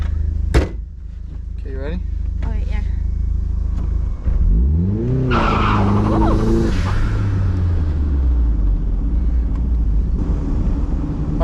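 A Mazda Miata with a four-cylinder engine pulls away and accelerates, its engine rising through gears with a steady rumble, after a door closes near the start; people talk inside the car over the engine.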